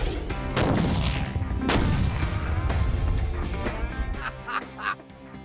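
C4 explosive detonates outdoors with a heavy booming blast, followed by a second sharp crack and a long rumbling, echoing tail that slowly settles, with no voices.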